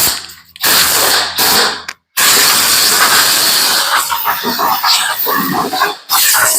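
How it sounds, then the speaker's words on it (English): An air blower hisses loudly as it blows dust off a piece of fine woodwork, coming in long bursts broken by short, sharp pauses. "blower"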